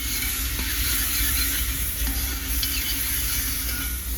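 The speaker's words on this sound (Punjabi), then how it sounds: "ਹੁਣ ਮੈਂ ਲਗਾ ਰਹੀ ਹਾਂ ਤੜਕਾ ਛੋਲਿਆਂ ਨੂੰ ਬਣਾ ਰਹੀ ਹਾਂ ਜੀ ਸਬਜ਼ੀ" Tadka tempering for chickpea and potato curry sizzles steadily in hot oil, a continuous broadband hiss with faint stirring clinks, close and fairly loud throughout with no voices.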